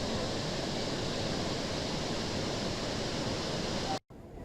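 Heavy water pours through the Hemavathi dam on the Hemavathi river after continuous heavy rain, making a loud, dense, unbroken roaring rush that cuts out briefly near the end before resuming more faintly.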